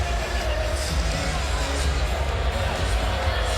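Basketball arena crowd at the 2017 ACC Championship quarterfinal between Virginia and Notre Dame, a loud, continuous restless murmur and low groaning during a replay review, dense and unbroken.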